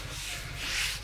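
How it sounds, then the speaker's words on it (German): Hand sanding with coarse 80-grit sandpaper during a car photo-studio build, a steady close abrasive rubbing that swells slightly louder toward the end of the stroke, with no talking. "das ist jetzt 80er Schleifpapier, weil ich will jetzt einmal alles halt durchschleifen."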